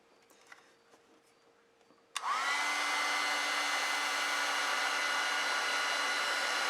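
A heat gun or hair dryer drying watercolor paint in a sketchbook starts with a click after quiet handling noises, then blows as a loud, steady whooshing hum that continues to the end.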